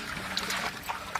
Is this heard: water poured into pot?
yes